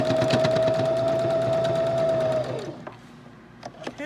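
Sewing machine stitching a short seam along the edge of a fabric face mask, a steady loud motor whir with rapid needle ticking for about two and a half seconds, then stopping and leaving quieter handling noises.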